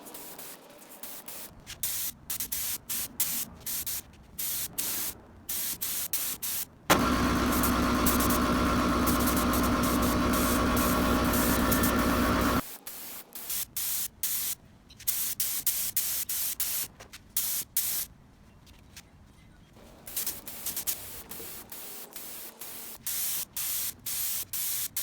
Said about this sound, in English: today we're going to spray the hammer tone, and I'm just going to rip into that